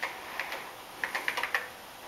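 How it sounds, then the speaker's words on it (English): Keys on an old spring-loaded computer keyboard clack in a quick uneven burst of sharp clicks, close and distinct against a faint background hiss. "This keyboard actually has springs in it, and it's much harder to press"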